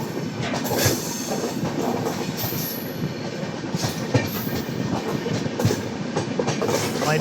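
A long-distance passenger train pulls out of Aunihar station in India, with a loud steady rumble, rhythmic clickety-clack of wheels over rail joints and faint high wheel squeal throughout.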